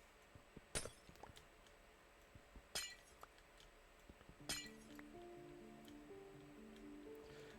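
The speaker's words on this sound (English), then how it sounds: "I apologise for the sounds of breaking glass." Glass panes shattering in the Minecraft video game while a roof is built over a Jurassic World structure: three sharp, bright crashes spaced about two seconds apart, with quiet ticking between them and soft tonal game music rising after the third break.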